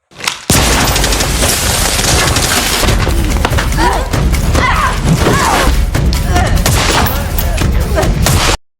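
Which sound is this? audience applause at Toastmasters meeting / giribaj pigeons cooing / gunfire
gunfire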